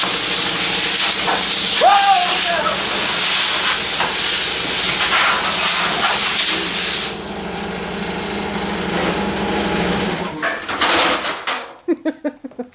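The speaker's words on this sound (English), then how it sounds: "that's what happens when your hose blows off" An air hose blows off during Subaru engine disassembly, releasing a loud, steady broadband hiss that drops in strength midway, then fades into sputtering bursts before stopping.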